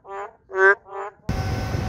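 A voice imitates a toad's croak with three deep, gruff calls in a row, followed by a burst of steady broadband noise.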